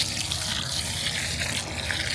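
Water poured onto the soil around a newly planted plum tree during backfilling, a steady continuous splashing gush that stays loud and even throughout, with no talking.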